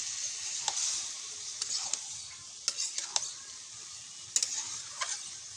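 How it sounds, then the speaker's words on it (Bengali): A spoon scrapes and taps at ash gourd (chal kumro) curry in a pan. The strokes are soft and irregular over a faint background sizzle, nearby and quiet, with no voices. "আবার একবার নেড়ে দিলাম"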